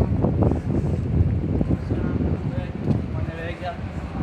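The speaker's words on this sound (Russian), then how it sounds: "Такой ветер." Strong gusty wind from a sandstorm in Egypt buffets the microphone in a constant rough roar, with a person speaking underneath.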